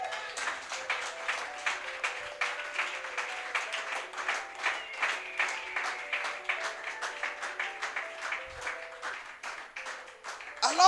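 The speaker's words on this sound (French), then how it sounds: "Est-ce qu'on peut acclamer notre Dieu?" A church congregation applauding God in rhythmic unison, steady pulsing clapping that keeps a beat for about ten seconds, with faint voices underneath.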